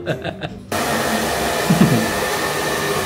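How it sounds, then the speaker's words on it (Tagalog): A hair blower dryer at a pet salon switches on abruptly after a brief moment of quieter noise and then runs as a steady, loud, close whooshing roar with no talk over it. "may blower na sila kasama rito"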